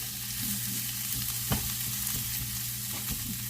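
Vegetables for steak fajitas sautéing in a hot pan give a steady close sizzle and crackle, with a few brief stirring clatters, one sharper knock partway through, and no voices.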